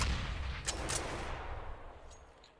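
Gunfire in a Counter-Strike match, a loud burst of rifle shots followed by a couple of fainter distant cracks.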